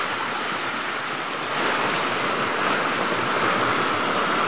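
Strong flood water rushing over a road in a provincial area of Glan, Sarangani Province, a loud, continuous broadband roar with no letup.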